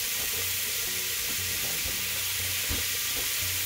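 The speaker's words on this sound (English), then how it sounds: "we're going to brown off a pound of ground meat. This is beef." A pound of 90-10 ground beef browns in a hot pan with a steady, dense sizzle and occasional soft stirring scrapes, close up and continuous without speech.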